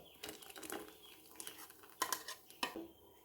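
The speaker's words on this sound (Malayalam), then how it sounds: "അരച്ചു വെച്ചിരിക്കുന്ന അരപ്പ് ചേർത്ത് നന്നായി ഇളക്കുക" A spoon stirs ground coconut paste into pumpkin and cowpea curry in a pot, producing soft scraping and several sharp metallic clinks against the vessel, close and fairly quiet.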